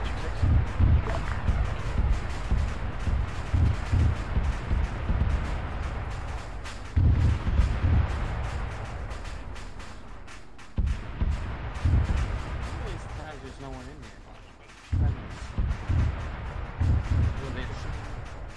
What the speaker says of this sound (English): Between the explosions currently happening and past explosions that have given me tinnitus, I really can't hear you.